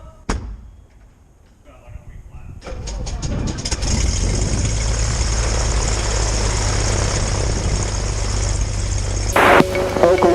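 The propeller engine of a Stinson 108 light aircraft catches after a few clicks and rises to a loud, close, steady drone that holds to the end, with a brief bang near the finish.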